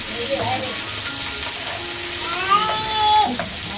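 Green chillies and curry leaves sizzle and crackle steadily in hot oil in a home kitchen, a close, continuous frying hiss with faint background sounds and brief voices.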